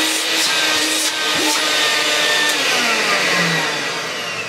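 A Vax 121 vacuum cleaner found at a car boot sale runs continuously with a loud, steady motor whine and airflow roar, with small pitch shifts and no voices.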